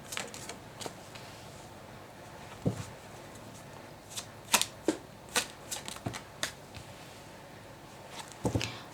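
Tarot cards being shuffled and flicked by hand in a quiet room, a soft continuous riffle broken by sharper snapping slaps of the deck, with no speech.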